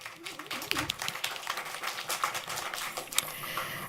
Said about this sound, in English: Let's give them a round of applause, even if it's just from home.